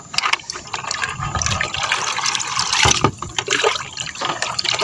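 Dissolved fertilizer solution is poured into a mix of balanced NPK and urea: a steady splashing, trickling liquid sound, fairly loud and continuous throughout with a few brief surges.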